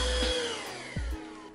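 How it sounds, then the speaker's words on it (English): A household vacuum cleaner runs steadily at close range with a loud, continuous motor whine, with small shifts in pitch as it moves. "let's vacuum this."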